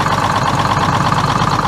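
A Detroit 6-71 diesel engine in an International truck idles steadily with a dense, even rumble, loud and close, with no voices over it.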